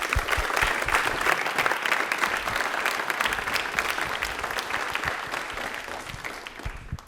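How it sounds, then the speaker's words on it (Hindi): A studio audience at a televised general knowledge quiz on DD Rajasthan claps hard for a contestant, a dense, steady round of applause that fades slightly toward the end. "गिरिजा के लिए तालियां एक बार जोरदार हो जाए"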